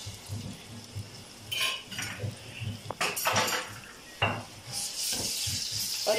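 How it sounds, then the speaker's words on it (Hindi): Ginger garlic paste fries in half a cup of hot oil in a karahi, sizzling steadily while a spoon scrapes and clinks against the metal pan in bursts of stirring. "एक चम्मच इसमें अदरक लहसुन का पेस्ट डालेंगे।"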